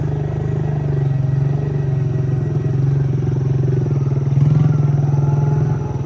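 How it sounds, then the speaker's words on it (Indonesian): Two excavators and a bulldozer at work on road construction between Pessel and Solok in Binuang give off a steady, loud diesel rumble with a faint clattering texture that swells slightly near the end. "Ini ada 3 mesin di sini. Ada 2 eskavator dan 1 dozer."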